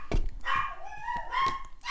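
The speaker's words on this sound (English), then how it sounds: "Sorry about the dog" A dog barking indoors in a quick run of sharp barks and whining yips, close and fairly loud, with no talk over it.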